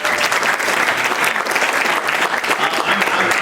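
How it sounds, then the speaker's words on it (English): Loud, sustained applause from a conference audience at a conservative coalition gathering, dense clapping rolling steadily for a few seconds with a faint murmur of voices beneath. "So give me a round of applause."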